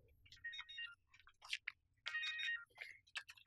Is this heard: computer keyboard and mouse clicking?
no